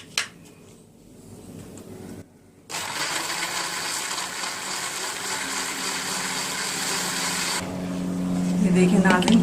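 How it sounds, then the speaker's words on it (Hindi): An electric blender whirring through mint leaves and cucumber pieces in water, a steady loud motor roar for several seconds after a short start, with a person talking over it. "ये देखिए नाज़रीन बहुत अच्छे से ये ब्लेंड हो गई है।"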